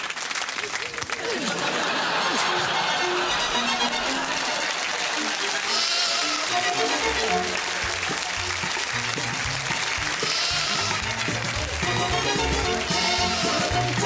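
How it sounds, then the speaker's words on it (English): A flock of sheep is driven through a tight space, their bleats rising repeatedly through a continuous, dense crowd-like din, with a narrator talking over it. "This forces the sheep to move faster and faster"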